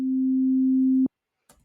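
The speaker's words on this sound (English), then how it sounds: "a sine wave is much more soft and sounds like this" A pure, soft, low sine wave tone from the Sylenth1 synthesizer plug-in holds steadily for about a second, then stops with a slight click, followed by silence and a faint noise.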